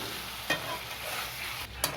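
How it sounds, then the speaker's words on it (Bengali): Marinated chicken pieces go into hot spiced oil for chicken kosha and are stirred, giving a continuous close sizzle with two brief scraping stirs of a spoon against the pan, no talking. "এবারে ম্যারিনেট করা মাংসটি দিয়ে দেবো। এবার এটাকে একটু নেড়ে নেব,"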